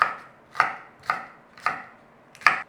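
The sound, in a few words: chopping vegetables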